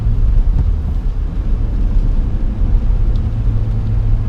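A CL9 Honda Accord Type S drives along a road, its engine and tyre noise forming a heavy, continuous low rumble that stays close and steady throughout.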